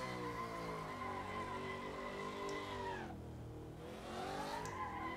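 A car drifts in the Assetto Corsa racing game, its engine droning under sustained tire squeal that dips and sweeps back up as it transitions between drifts, loud and continuous with no talk.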